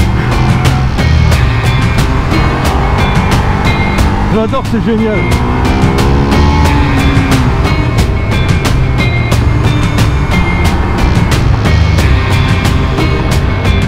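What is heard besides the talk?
Ducati XDiavel motorcycle engine growling and backfiring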